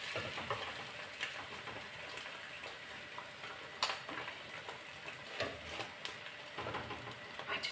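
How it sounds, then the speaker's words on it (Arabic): Beans frying in a pan and being stirred, a quiet, steady sizzle with scattered faint ticks and scrapes from the stirring. "نقلب على الفاصوليا ممكن هكا."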